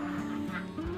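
Laying ducks kept in a pen on a duck farm give a short burst of nasal honking and quacking over a steady background hum.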